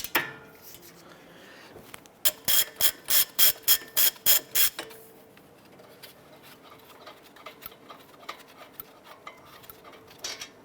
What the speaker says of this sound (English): remove the two 19mm bolts holding our brake caliper bracket to the knuckle